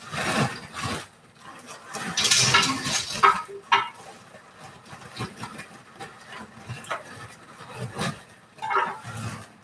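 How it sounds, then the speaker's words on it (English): Chips tumbling into an air fryer basket as part of dinner prep, heard as a series of close, irregular rustling and clattering bursts with short pauses between them. "I'll put some chips in the air fryer basket"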